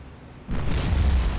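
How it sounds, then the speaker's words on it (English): Ship's secondary explosion in the naval video game War on the Sea, a sudden deep boom that bursts in after a quiet moment and rumbles on with heavy low-end roar. "Big secondary explosion"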